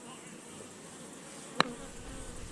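Honeybees in a rescue hive make a faint, steady low buzz throughout, with one sharp click near the end.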